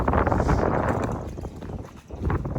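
Wind gusts through an outdoor garden with budding plants, buffeting the microphone in loud, rough rushes that briefly ease before surging again.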